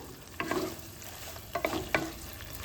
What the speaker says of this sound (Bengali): এটা দিয়ে একটু এক দু মিনিট একটুখানি নাড়াচাড়া করব